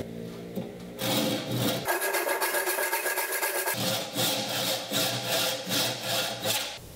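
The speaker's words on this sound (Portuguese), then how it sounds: "Usar o máximo da extensão do serrote e mais ou menos 60 golpes por minuto." A hand saw cuts through wood for table-making with close, loud, rhythmic rasping strokes at a steady pace of about one per second, and no talking.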